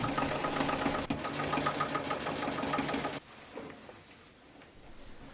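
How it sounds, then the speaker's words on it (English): A Brother XL706 sewing machine stitching a denim jacket sleeve runs with a steady, loud mechanical whir for about three seconds, then stops, leaving quiet room noise. "I'm sewing them together starting from the armpit seam so that it's aligned from the outside"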